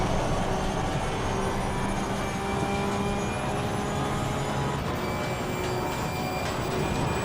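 Porsche 992 Cup race car in a racing video game, its engine droning steadily at high revs through a downshift, a continuous loud mechanical whine with layered tonal harmonics and no voices.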